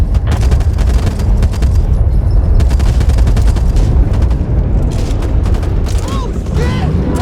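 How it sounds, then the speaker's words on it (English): Grenade blast followed by heavy automatic gunfire in the zombie shooter Back 4 Blood, loud and continuous booms and rapid shots, with brief voices shouting over the combat. "Grenade here!"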